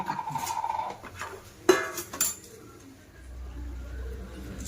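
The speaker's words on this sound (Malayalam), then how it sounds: "അതും കൂടെ ഒന്ന് ഇളക്കാം" A spoon stirs crushed chili in a pan, giving soft scraping and a few light metallic clinks, close and fairly quiet, with low kitchen rumble underneath.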